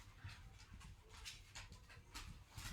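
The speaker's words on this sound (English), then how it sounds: "the dogs are wrestling in the background" Dogs wrestle in the background, giving faint whimpers, scuffling and panting in a busy, low-level jumble off at a distance.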